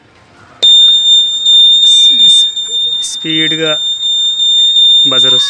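A Honda Activa 3G scooter's turn indicator buzzer beeps with a steady high-pitched electronic tone, with a voice talking over it in places.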